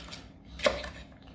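A knife chops vegetables roughly for a prawn curry in red capsicum sauce. A single soft chop lands on a board, faint against quiet kitchen background.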